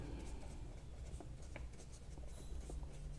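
Pen scratching on paper as an answer is written by hand, quiet close strokes in short irregular bursts, with no talking.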